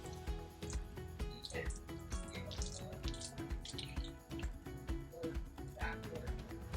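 Tap water runs over hands being rinsed in a kitchen sink while cooking zoodles and meatballs, a soft splashing flow sitting under louder background music throughout.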